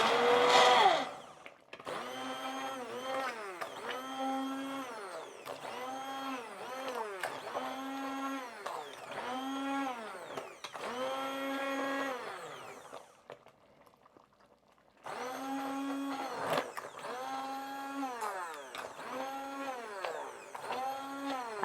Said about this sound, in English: So I've got the immersion blender here, and I've got a little more stock and the the coconut milk to put in